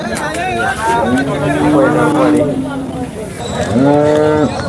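Cows moo at the Sangola cattle market, with two long drawn-out lows rising over a crowd's murmur, the second near the end loud and close.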